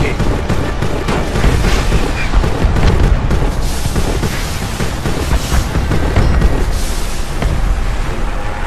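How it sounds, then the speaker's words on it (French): Fuel convoy trucks blowing up in the video game Homefront, a dense, continuous roar of explosions and rumbling blasts with crackling bursts, loud and sustained throughout. "Faites les sauter."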